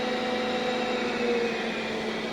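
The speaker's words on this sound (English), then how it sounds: "Although you still hear a noise, it's the fan running." An air compressor's cooling fan keeps running after the machine is stopped at a plant shutdown, giving a steady, fairly loud whirring drone with constant tonal hum throughout.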